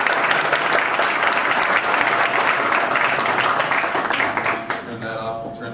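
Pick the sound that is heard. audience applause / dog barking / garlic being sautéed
audience applause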